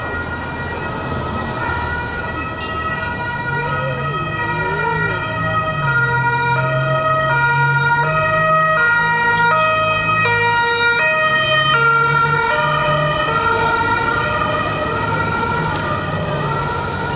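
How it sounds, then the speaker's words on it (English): Several emergency sirens wail and overlap on a busy street in Rome, steady and loud, with traffic rumbling underneath. "I know when sirens are on, it's not a good thing"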